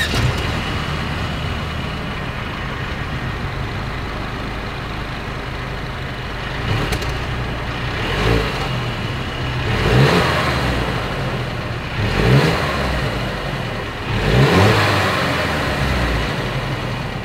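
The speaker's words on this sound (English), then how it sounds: "As always, here is that exhaust clip." A 2022 Mercedes-Benz GLC 300 Coupe idles steadily, then revs up in several short bursts every couple of seconds, the exhaust note rising and falling loudly up close.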